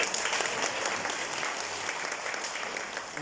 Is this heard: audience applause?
yes